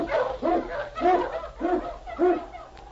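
A husky lead dog named King barks repeatedly in a bright, steady rhythm of about four sharp woofs, close and clear, set in a storm-and-snow Yukon trail scene of a classic radio drama.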